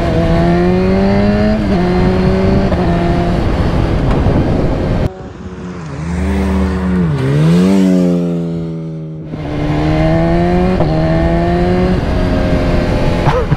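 A BMW S1000RR motorcycle accelerates hard with quickshifter gear changes, a loud rising engine whine through several upshifts, a brief dip, then more roaring pulls, close and continuous without talk.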